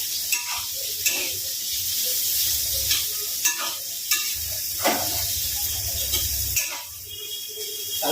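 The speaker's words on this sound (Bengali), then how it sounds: "তো পেঁয়াজটাকে হালকা একটু আমি নেড়ে নেবো" Onions stirred and frying in a pan for a Bengali katla fish curry, a steady sizzle with repeated scraping strokes of the spoon, close and loud with no talking.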